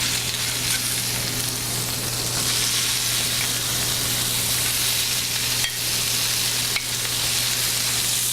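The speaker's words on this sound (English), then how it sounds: "we want to see that just start to sizzle and spatter right off the bat" Steady, loud sizzling and spattering of meat searing in a hot pan, continuous throughout with occasional sharper pops and a low constant hum beneath.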